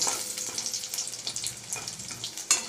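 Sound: egg frying lightly in a pan

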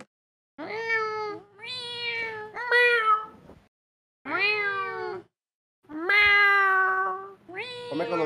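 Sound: cat meowing in Minecraft video game

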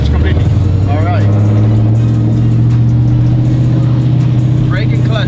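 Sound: sequential burnout truck engine pulling away as clutch is released

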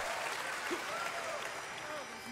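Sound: audience cheering at a performance

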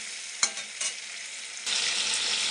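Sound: sautéing curry in a pan

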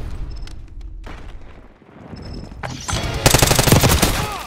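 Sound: gunfire in Call of Duty Black Ops 6 video game

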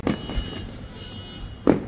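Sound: fireworks at New Year celebration in Calgary

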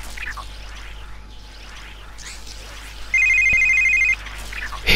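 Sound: phone ringing in video game

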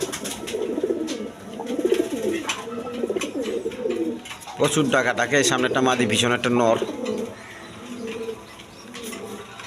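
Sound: Lahori Shirazi pigeons cooing

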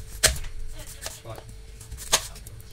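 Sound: onions being thinly sliced with a knife

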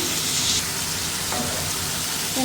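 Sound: vegetables with spices frying and being stirred in oil

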